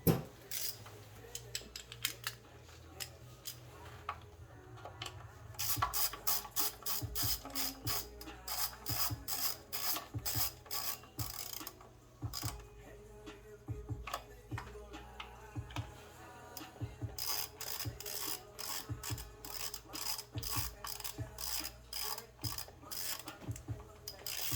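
A stubby ratchet tightens spark plugs on a Kia Sorento 4-cylinder GDI engine, giving close, quiet runs of rapid clicking in repeated bursts with short pauses between strokes.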